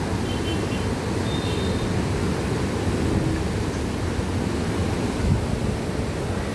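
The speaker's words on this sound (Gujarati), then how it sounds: "ફૂલ પાણી આવેલું છે અમારે રાવલ નદીમાં." The Raval river, flooded after water was released from a dam, rushes loudly and continuously, a dense broadband roar with no pauses and some wind buffeting the microphone.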